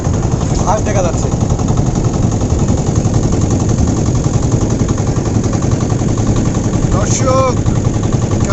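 A motorboat engine runs steadily while the boat is underway, a loud, close, continuous rattling drone from start to finish, with brief voices faintly audible under it.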